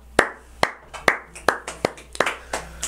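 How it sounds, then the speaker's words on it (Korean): A few people in an audience clap during a company presentation, giving about eight sharp, separate claps in an uneven rhythm. The claps are close and distinct over a quiet room hum, with no speech. "박수."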